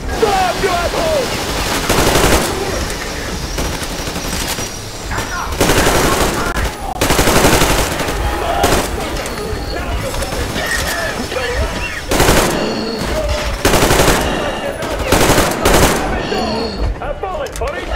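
Machine gun fire in the video game Metro Exodus, repeated loud bursts of rapid shots broken by short pauses, mixed with shouting voices and combat noise.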